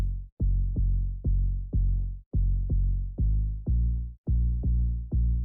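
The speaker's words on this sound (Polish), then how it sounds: "Sub bass brzmi tak." A heavy synth sub bass for a deep house drop, built in FL Studio, plays alone as a steady run of loud, deep, sustained notes in an even rhythm, each note cut off by a short gap before the next.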